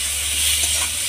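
Pointed gourd frying in hot oil with turmeric powder, a loud, steady sizzle and hiss that fills the short moment without a break.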